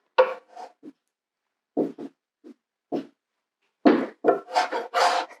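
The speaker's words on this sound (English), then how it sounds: "It's just seeing how easily I can scrape it off." Sticky old finish being scraped off wooden furniture: short, close, rasping strokes in separate bursts with gaps between, growing louder and quicker toward the end.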